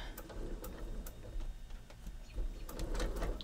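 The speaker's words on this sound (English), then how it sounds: "let's take this to the sewing machine and let's get her done. Last stitch for the topper." Sewing machine stitching a quilted mat topper, a close run of quick mechanical ticks and clicks over a low motor rumble, uneven in pace.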